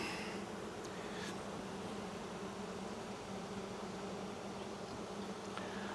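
Honeybees buzz steadily in an open hive during a June colony inspection, a dense, continuous drone close by with a few sharper, nearer passes of individual bees, and no talking.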